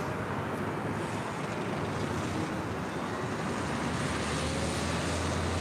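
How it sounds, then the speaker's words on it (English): Asiana airliner taxiing at LAX, heard as a steady, broad roar of jet engines that holds constant throughout with no voices. "Asiana starting taxi."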